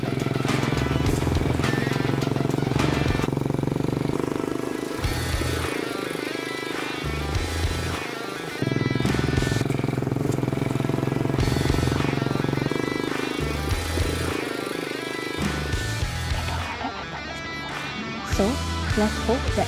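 ATV engine droning steadily while riding through Terengganu, loud and close with changing revs and brief dips, voices talking over the motor at times.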